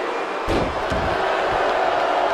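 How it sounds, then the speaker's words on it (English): A wrestling arena crowd in WWE 2K22 keeps up a loud continuous roar of booing, with a couple of thuds early on. "Crowd booing"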